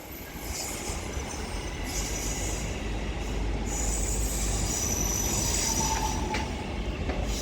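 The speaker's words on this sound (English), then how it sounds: "Now terminating in is going to be a Northern service off Wigan North Western 323207 ex West Midlands Railway." Northern electric train 323207, formerly West Midlands Railway, arriving at Liverpool Lime Street from Wigan North Western, with a steady loud rumble of rolling wagons and wheels squealing high on the rails throughout, no voices.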